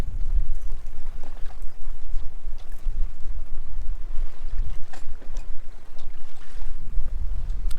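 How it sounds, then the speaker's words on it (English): A sailboat under way at sea on a calm Atlantic passage, with steady low rumbling wind and water noise against the hull and mic, close and fairly loud with a few faint knocks. "This is a lovely Sunday sail."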